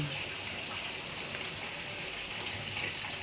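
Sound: rain falling outside

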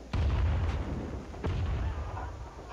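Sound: gunfire in Rising Storm 2 video game

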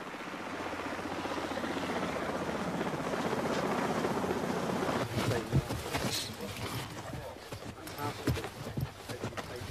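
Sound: helicopter

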